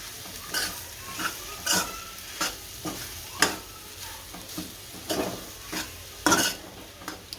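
A spiced sandwich filling with red chili and garam masala is stirred in a pan: a spoon scrapes the pan in repeated, irregular close strokes over a faint background hiss.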